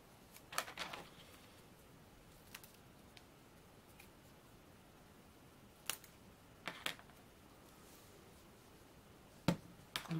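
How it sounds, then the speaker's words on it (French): Scissors cutting card straight during papercraft, a handful of quiet, crisp snips in small clusters spread across a hushed room. "Donc là, je vais couper droit."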